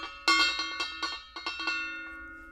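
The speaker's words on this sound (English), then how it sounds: "I guess we'll do a gong roll." Metallic bell-like strikes ring out in a quick series of about eight hits, each sustaining with bright ringing overtones, a gong roll played for a ranking countdown.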